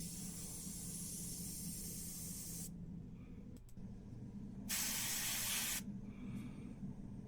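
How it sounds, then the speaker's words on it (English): Short hissing bursts of a spray gun or spray can coating a ceramic figure, heard as two bright blasts with pauses between them over a steady background hiss, fairly faint and with no voices. "he's spraying in places he shouldn't"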